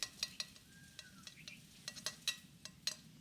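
Okra and onions sauté in a pan under a low, constant sizzle, punctuated by regular sharp clicks and scrapes of a spoon stirring against the metal, close up and without speech.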